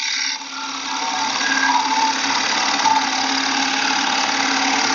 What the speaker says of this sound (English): I'm just going to slice in from the side with my bowl gouge